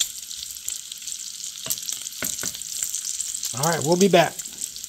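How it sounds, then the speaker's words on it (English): Bacon sizzles steadily in an antique Griswold cast iron skillet over medium-high heat, a broad crackling hiss running throughout, with a few clinks and a brief spoken line near the end. "this bacon's almost done"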